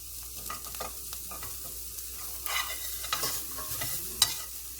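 Onions frying in a pan for shahi paneer, being stirred: a quiet sizzle under uneven scraping strokes and a sharp clack near the end.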